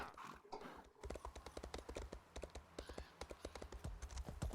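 Horse hooves clip-clop in a steady, fast rhythm while riding in the video game Elder Scrolls Online, the even thuds running close and loud through the whole stretch with no talk.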